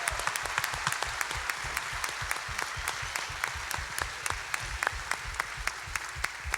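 An audience applauds to welcome a speaker at a Memphis gospel quartet event: dense, steady clapping from a large crowd, sustained at moderate distance throughout.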